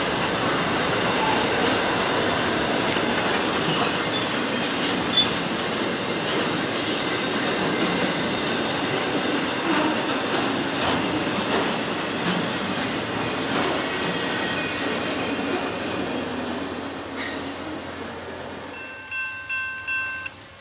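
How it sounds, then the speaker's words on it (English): A train passes close by on a rail line as a loud, continuous roar with clattering wheels and faint squeals. A few rhythmic clacks of the last cars trail off near the end. "So, the train that we are actually here for would be I-10"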